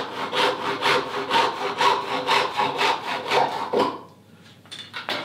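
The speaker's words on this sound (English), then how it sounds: "we're actually going to cut it to length" A hand saw cuts through a wooden bar clamped in a vise in rhythmic back-and-forth strokes, close and crisp, about a dozen rasping passes before the cut finishes and the strokes stop.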